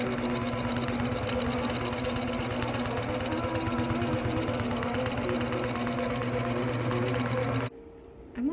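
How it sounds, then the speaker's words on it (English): Intelliquilter computerized longarm quilting machine on an APQS Lucy stitching a quilt, a steady rapid mechanical stitching hum that runs evenly, then cuts off abruptly near the end. "I'm very comfortable that Intelliquilter is going to move across this quilt nicely"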